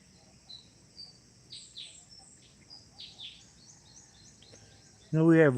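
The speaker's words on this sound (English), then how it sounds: "Here's some weird birds back that way." Distant birds call from downhill on a forested mountainside on an island in the Philippines: faint, high chirps repeat every second or so over quiet background hum, and a voice starts speaking at the very end.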